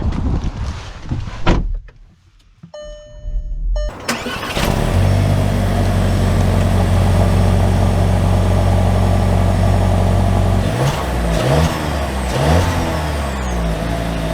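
A 2024 VW Taos starts up after a few clicks and chimes inside the cabin, then its engine settles into a steady, fairly loud hum and rises slightly as the car begins to move.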